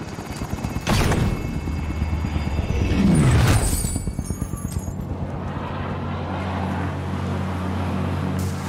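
A video game helicopter flies off, its rotor thumping loud and close at first, then fading steadily into the distance over an ongoing engine-like hum.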